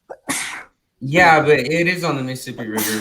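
A person sneezes once sharply near the start, with a quick intake before it, followed by a short pause and then someone talking close up.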